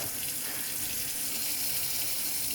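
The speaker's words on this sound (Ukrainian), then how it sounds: "Із крана тече вода." Water runs from a kitchen tap in a newly rented flat, a steady, close hiss of flowing water that continues evenly throughout without pauses or talk.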